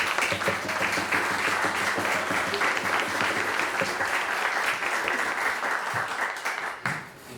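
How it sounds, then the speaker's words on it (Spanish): Audience applause for a composer at an Andean music festival in Bogotá, a sustained, full burst of crowd clapping that holds steady and then fades out in the final second. "Un aplauso para él, por favor."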